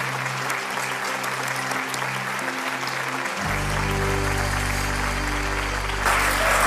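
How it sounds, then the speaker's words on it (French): A studio audience claps on a TV show, a dense continuous round of applause over steady musical tones that swell midway, the clapping staying loud throughout. "ça mérite un applaudissement"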